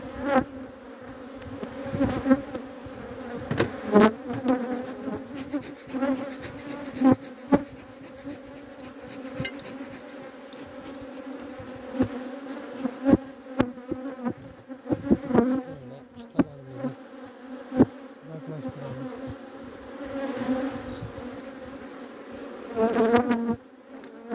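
Honeybees swarm around an open beehive in spring, a steady close buzzing hum with individual bees darting past the microphone, moderately loud and continuous throughout.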